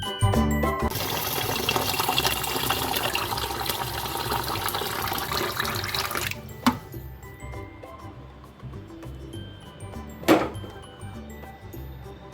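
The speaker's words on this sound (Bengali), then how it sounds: "সবার প্রথমে আমি চালটা ধুয়ে ভাত বসিয়ে দেব।" Water running in a kitchen while rice is being washed, a steady loud rush of flowing water for about six seconds, then quieter with a couple of brief clinks or splashes.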